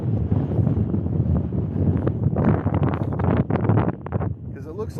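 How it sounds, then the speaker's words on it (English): Wind picks up outdoors as clouds swirl before a storm, buffeting the microphone in loud, rumbling gusts that swell and ease throughout. "it's starting to get windy."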